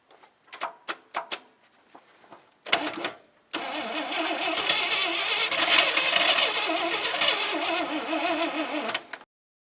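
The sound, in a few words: 1967 International 1200 truck engine cranking and starting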